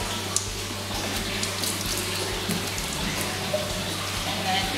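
Water splashing and running steadily while someone rinses off at the washing area of a traditional Japanese public bath (onsen), a continuous close wash of spray with small drips and knocks.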